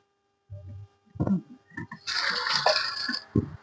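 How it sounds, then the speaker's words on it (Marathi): A little water is poured into a cooking pot holding tomato, onion, asafoetida, cumin and turmeric, giving a brief close splashing pour that follows a few soft knocks and clatters. "त्याच्यात थोडंसं पाणी टाकते मी."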